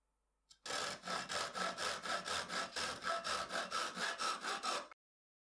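A hand saw cuts through a wooden dowel rod in a steady run of about eighteen even back-and-forth strokes, loud and close, then stops abruptly; nobody speaks.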